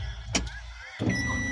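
A car engine cranks and catches with a brief shake, settling into a close, steady idle after a short burst of starter noise.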